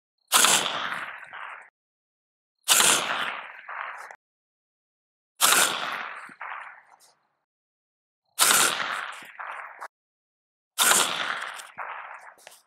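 Five rifle shots fired through a Daniel Defense SoundGuard suppressor, each a sharp crack with a short echoing tail, spaced about two and a half seconds apart, loud and close with no voices.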